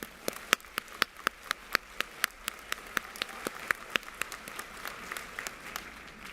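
Graduation ceremony audience applauding, sharp claps spaced out in a steady patter for several seconds, somewhat distant with a roomy, rain-like texture and no talk over it.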